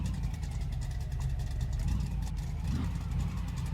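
A sideswiped Chevrolet El Camino engine running steadily after starting, a low continuous rumbling idle heard up close with no talking.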